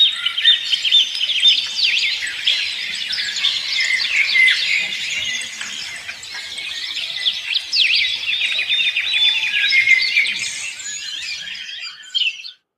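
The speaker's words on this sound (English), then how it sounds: "and listen to the birds sing." Birds sing in a steady outdoor chorus, with dense, bright chirps and trills overlapping continuously and no talking.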